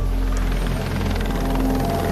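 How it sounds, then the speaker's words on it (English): A police helicopter holds steady and loud overhead near a surf beach, its rotor thudding in a continuous pulsing drone with no talking. "Lifeguards call in the police chopper."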